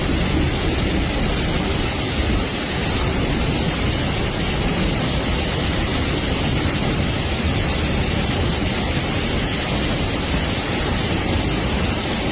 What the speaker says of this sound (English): The downpour was so intense that the water level nearly reached the platforms.